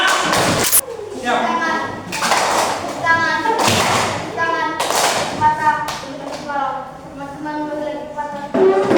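Rhythmic group clapping cheer by a class of children, sharp patterned claps and thumps in bursts, mixed with children's chanting voices.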